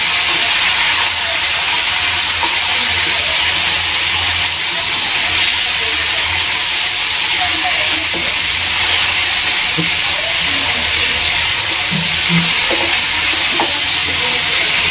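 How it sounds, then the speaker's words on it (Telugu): Sweet corn paneer sandwich frying in a pan: a loud, steady, close sizzle and hiss runs unbroken throughout, with occasional faint stirring sounds beneath. "ఇందులో వేసేసి కొద్దిగా మనం ఫ్రై చేస్తే చాలండి. ఇలా వేయించుకుంటే చాలు."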